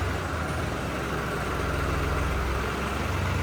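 A New Holland tractor engine idles with a steady, low rumble, unchanging throughout, with no voices.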